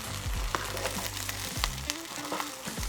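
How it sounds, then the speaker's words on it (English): Three beaten eggs frying in a pan for Chinese New Year fried rice, a steady close sizzle with soft clicks and scrapes of gentle stirring, no voices. "take the 3 beaten eggs, put them in, and gently stir for about 7 minutes"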